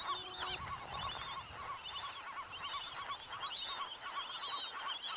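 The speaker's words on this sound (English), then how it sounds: "Home to the largest breeding colony of western gulls in the world, juveniles were everywhere" Western gulls at a huge breeding colony on Anacapa Island, with juveniles begging adults for food; a dense, continuous chorus of overlapping squealing and honking calls, fairly loud and steady throughout, with no talking.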